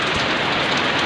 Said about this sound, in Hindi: यहाँ हो रही है बारिश